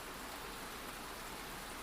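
Steady ambient rain hisses softly and evenly as a quiet, continuous wash of noise, with no voices and no distinct drops standing out.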